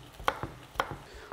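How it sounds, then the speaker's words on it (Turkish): A knife chops green onion on a cutting board, four or five sharp close taps in an uneven rhythm with quiet pauses between them. "son olarak da taze soğanımızı, avokado ve cevizli ezmemizin içine doğrayacağız"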